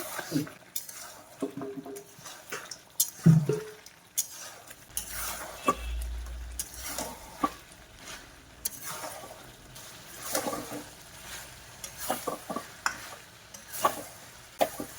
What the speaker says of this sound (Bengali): গরম মশলা গুঁড়ো দিয়ে কিছুক্ষণ মাংসকে কষে নেব।